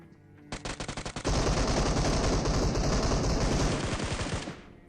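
Gunfire in a multiplayer shooter game: a quick run of separate shots, then a loud, sustained burst of automatic fire lasting several seconds before it cuts off.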